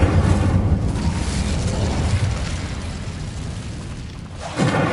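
Incendio fire spell cast in Hogwarts Legacy: a sustained, loud whooshing roar with booming low rumble for several seconds, dipping briefly near the end before a fresh burst, no talking.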